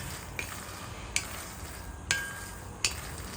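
Makhana (fox nuts) dry-roasting in a pan on a low flame, a soft continuous rustle broken by four sharp scraping clicks of a spoon stirring at irregular intervals, close and alone.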